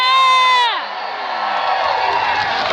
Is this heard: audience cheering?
yes